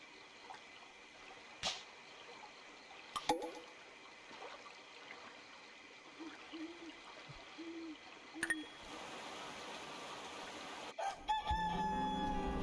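Chickens in a farming video game, with several short repeated clucks and hoots in a quiet scene and a few sharp clicks between them, ending in a brief burst of brighter game sound.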